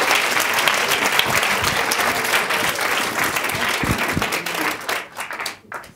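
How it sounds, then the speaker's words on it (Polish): Dense audience applause as a motivational speaker on mental preparation for sport is welcomed on stage, steady crowd clapping that tapers off toward the end. "Wielkie brawa!"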